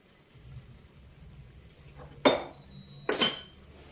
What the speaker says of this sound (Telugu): ఇందులో కొంచెం ఉప్పు వేసుకొని మనము మెదుపుకుందాం